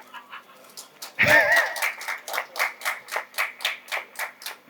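An audience at a Telugu talk on caste and Ambedkar claps in steady unison, a loud rhythmic beat of about three claps per second that follows a brief noisy burst.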